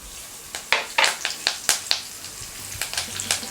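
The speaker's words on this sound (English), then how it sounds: "Now in the same oil add cumin seeds and mustard seeds, fresh curry leaves" Cumin and mustard seeds hit hot oil with scattered sharp pops and crackles over a soft sizzle. The popping is close and moderately loud, in irregular bursts, and nobody talks.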